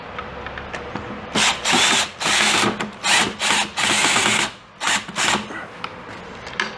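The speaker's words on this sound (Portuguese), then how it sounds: "eu vou botar um extensor aqui na minha parafusadeira" A cordless screwdriver fitted with a bit extension drives a screw while mounting a wall shelf, its motor whirring in several short bursts separated by brief pauses.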